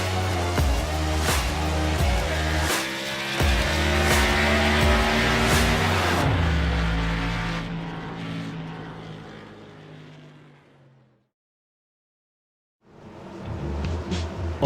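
Simulated race trucks at Auto Club Speedway, loud engines roaring close by and then fading away into silence before more engine noise returns.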